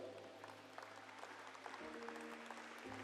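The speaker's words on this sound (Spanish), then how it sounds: "Dele fuerte ese aplauso al Señor." Continuous applause from a church congregation, steady and even, with a low musical hum underneath.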